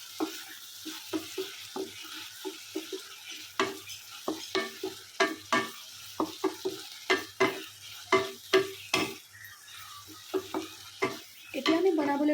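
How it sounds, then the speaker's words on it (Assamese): Ginger garlic paste fries in a pan with potatoes and eggplant for an Assamese fish curry, a soft sizzle under repeated quick scraping strokes of a spoon stirring, loud and close. "এতিয়া ইয়াত আমি বাতি থোৱা আদা নহৰু পেষ্ট অকণ দি দিম। আৰু ভালকৈ মিক্স কৰি ল'ম।"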